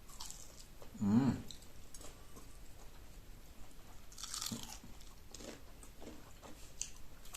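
Paprika rings are crunched and chewed up close during a mukbang, with a loud crisp bite early on and softer crunches and mouth sounds after it.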